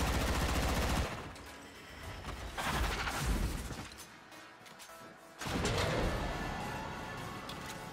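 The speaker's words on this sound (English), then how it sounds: "Quickly stripping Kayla's armor with the AK Bronco Prime" The AK Bronco Prime dual pistols fire during a Warframe assassination fight against Kela De Thaym. Dense, loud bursts of shots blend with heavy in-game effects and crashing impacts, rising again after a brief lull.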